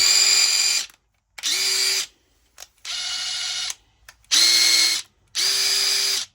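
A DeWalt 850 impact driver runs in five separate bursts of about a second each, with short silent gaps between them. The whine is loud, close and steady, and no one speaks.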